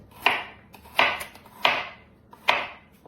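Four sharp knife chops on a cutting board while preparing ingredients for an oxymel tonic, evenly spaced about three-quarters of a second apart, close and crisp with short decays and no talking.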